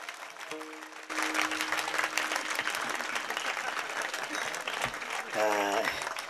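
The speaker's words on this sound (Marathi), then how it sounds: "टाळी टाळी टाळी टाळी टाळी जोरात जोरात जोरात." Audience applause at a comedy kirtan, a Marathi devotional performance, rising into a dense sustained roll of clapping that fills the hall, with crowd noise and a voice over it and a brief harmonium-like tone near the start and end.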